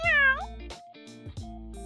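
Several cat meows, the first long and rising, then shorter mewing calls at a steady pace, close and clear with no voices.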